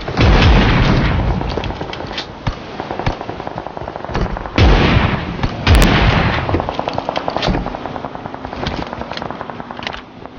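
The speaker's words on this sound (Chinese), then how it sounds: "丢个铝榴弹，他死" Loud gunfire and grenade blasts in a shooting video game: dense bursts of rapid shots punctuated by heavy booming explosions, close and continuous throughout, with a little faint voice underneath.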